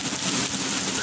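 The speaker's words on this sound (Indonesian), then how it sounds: "hujan yang berkah penuh rahmat Allah dan keberkahan dari Allah Ta'ala ini" Rain falls steadily, a continuous broadband hiss with no distinct drops standing out, fairly loud and even throughout the short stretch with no voices.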